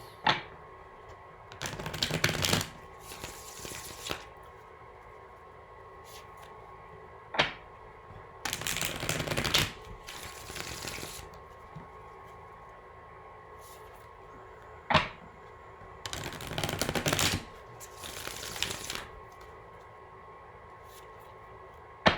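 Tarot decks are shuffled in intermittent bursts of crisp riffling and card slaps, separated by quiet pauses, close and moderately soft.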